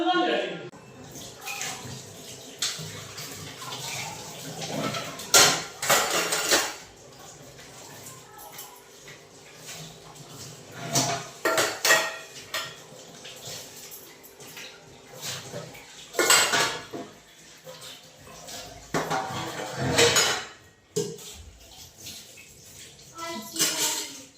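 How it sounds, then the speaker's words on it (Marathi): Used pots and dishes scrubbed and washed after a meal, with metallic clanks and clatters of utensils, water splashing and scraping in bursts, and people talking in the background at times. "जेवण झाले ते भांडे घासून घेते"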